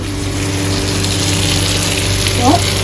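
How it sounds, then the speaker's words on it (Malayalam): Kalmas snack balls deep frying in hot oil, a loud steady bubbling hiss filling the whole short stretch, with a brief faint voice near the end. "ഫ്രൈ ചെയ്യാനിട്ടിട്ടുണ്ട്."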